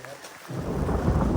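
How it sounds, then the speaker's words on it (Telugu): Rain sets in on a mountain trail between Salleri and Nunthala on the Everest Base Camp trek, a soft hiss that swells into a dense, loud wash of falling rain. "స్టార్ట్ అయిపోయింది వర్షం, స్పీడ్ అయిపోయింది"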